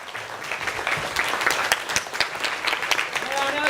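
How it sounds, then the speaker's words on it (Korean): An audience applauds to welcome Professor Jang Du-hui onto the stage at a humanities lecture, with dense, steady clapping sustained throughout and a few voices mixed in. "큰 박수와 함께 장두희 교수님을 초대해 볼까요?"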